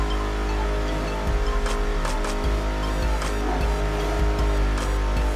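Nitro boost kicking in on a street car in the racing game Midnight Club 3 DUB Edition Remix, a loud steady engine roar rising with a surge partway through, over continuous game audio.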